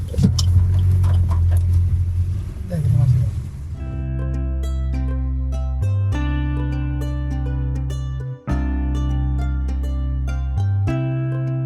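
A car drives along a road near Sangameshwar in the Konkan before pulling over to park, its rumbling engine and road noise loud for the first few seconds before steady music takes over the rest.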